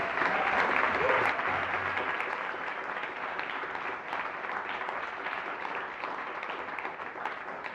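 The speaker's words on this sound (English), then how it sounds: "So give them a round of applause." A theatre audience applauds before a show, dense sustained clapping filling the room at an even, loud level from start to finish.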